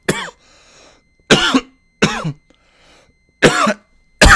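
A person coughs repeatedly in sharp, close, harsh bursts, four or five heavy hacks spaced about a second apart, with faint wheezy breaths between them.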